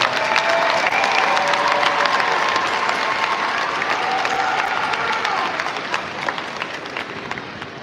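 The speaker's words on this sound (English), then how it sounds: "Please, let's give them one more big round of applause" A graduation ceremony audience breaks into sustained applause and some cheering, a thick crowd of clapping hands that stays loud throughout and eases slightly toward the end, with faint voices mixed in.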